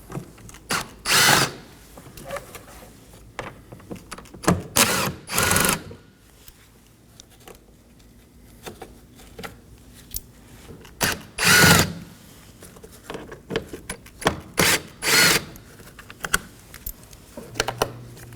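A power driver with a T30 bit backing out screws from the wiper cowl of a 2014-2023 Ford Transit Connect: short whirring bursts spaced by pauses, close and loud, with small clicks of handling between them.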